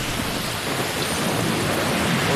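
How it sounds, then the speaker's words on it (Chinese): Heavy typhoon rain pounds down in Shanghai as a dense, loud, unbroken roar, with thunder rumbling beneath it. "哇，这个雨猛的"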